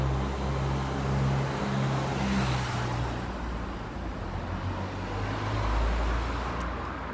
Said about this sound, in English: sorry about these cars passing